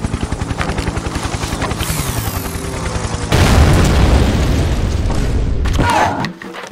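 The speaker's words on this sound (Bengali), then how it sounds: "এরোপ্লেন ঢিল মেরে আমি ব্লাস্ট করে দিয়েছি" A cartoon explosion as an airplane is struck by a thrown stone: steady droning engine noise gives way to a loud, sustained blast with a broad rumbling roar that fades after a few seconds, with no voices.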